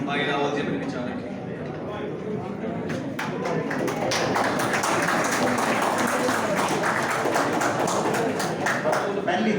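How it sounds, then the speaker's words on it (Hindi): An audience at a Guru Ravidas Jayanti program at an academy claps, a scattered patter that swells into steady sustained applause, fairly close, with voices talking underneath. "पहली ताली मार दिया।"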